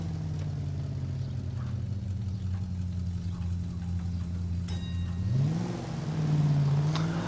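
Car engine in the video game LA Noire, a steady low idle-like drone that rises in pitch as the clutch engages and the car pulls away, moderately faint.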